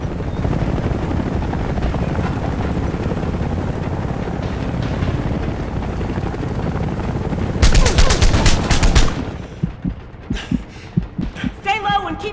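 Rapid gunfire from the video game Homefront, with a dense stretch of loud shots crackling in bursts, then scattered single and clustered shots, all over a steady droning backdrop resembling a helicopter.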